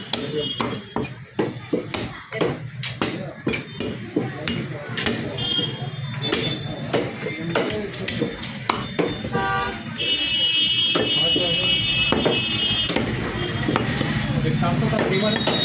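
A butcher's cleaver chops mutton into medium pieces at a shop in Vanasthalipuram, with rapid, uneven knocking blows on a block and metallic clinks. People talk in the background and a high electronic tone rings out partway through.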